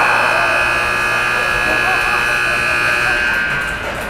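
Ice hockey period-end buzzer at a Western Selects versus Everest Elites game sounds as a loud, steady electronic tone held for about four seconds, with arena noise beneath and tapering slightly at the end.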